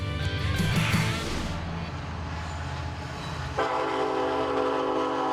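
A train rumbles past close by in Hyannis, Nebraska while its horn blares in long, loud blasts, the tone shifting partway through.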